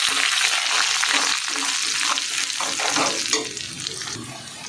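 Whole spices fry in hot oil in a pot for a village-style Friday biryani, making a loud, dense, close sizzle and crackle that eases slightly toward the end.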